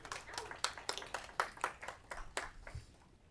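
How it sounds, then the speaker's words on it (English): A small audience at a city council meeting claps in a sparse, uneven burst of individual hand claps, fairly faint and quickly trailing off. "I'm going to respectfully ask you to not clap after people."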